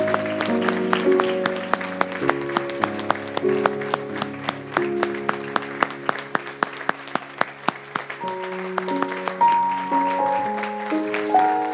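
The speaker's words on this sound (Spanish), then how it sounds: "Quiero que recibamos con un fuerte aplauso a Alejandro Vargas." An audience at a Christian testimony gathering breaks into warm, sustained applause to welcome a speaker, with many hands clapping steadily and crisp individual claps standing out throughout.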